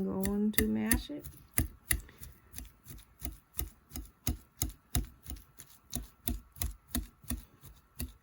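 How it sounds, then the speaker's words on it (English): Cooked potatoes are mashed in a bowl with steady, evenly paced thuds of the masher, close and fairly loud, following a brief voice at the start. "now I'm going to mash it."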